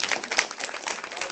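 A short burst of brisk clapping from an audience at a developmental disabilities awareness event, fairly close and busy, with no speech over it.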